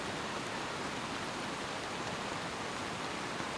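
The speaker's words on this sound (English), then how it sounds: "Right, I'm going to sit, listen to the rain," Rain falls steadily on an ultralight tent at a campsite, a close, uniform hiss with no pauses and no voices.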